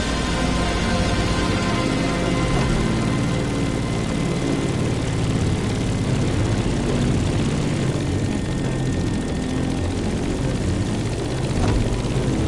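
A propeller aircraft engine drones steadily in the video game The Crew Motorfest while the plane climbs over mountains near Kaneohe, a constant loud whirring hum with no talk for the whole stretch.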